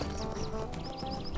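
Horse sounds from the fantasy online game Lord of the Rings Online, a hunter hobbit's steed, with hooves clip-clopping steadily over a busy game backdrop, moderately near, no talk.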